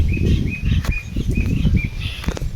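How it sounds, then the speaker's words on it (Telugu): Wings flap rapidly in repeated flurries close by while thin, regular high chirps sound at steady intervals over a rumbling outdoor wind. "పక్షుల కిలకిలతో, వాటి రెక్కలతో, టపటపలతో ప్రకృతి అందంగా ఉంది."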